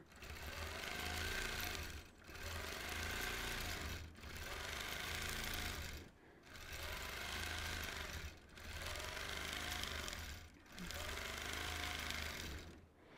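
A sewing machine runs in steady bursts during free-motion quilting of an orange peel design, stitching one arc at a time; about six sustained whirring runs separated by brief pauses, close and loud.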